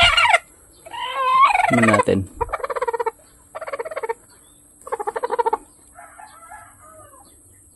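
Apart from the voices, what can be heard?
turkey gobbling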